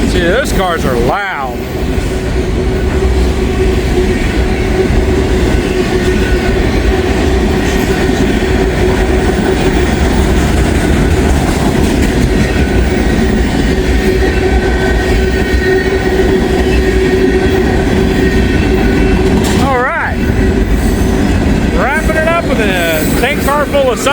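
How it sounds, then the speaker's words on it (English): A long freight train rolls past close by, a loud, continuous rumble of wheels and rail cars with clanking and a sharp squeal near the end, while someone talks over it. "It's a long one, just like the regular 506. A long train, man."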